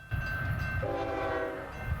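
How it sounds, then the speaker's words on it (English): A freight train crosses the Permian Basin near Odessa, Texas, sounding a steady horn blast of about a second over a low, rolling rumble of rail traffic at moderate distance. "You see trains crossing the Permian Basin."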